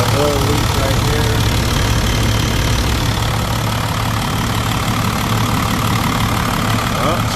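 A 12-valve Cummins diesel idles in a Dodge W350 4x4 pickup, a loud, steady low rumble heard up close, with someone talking over it.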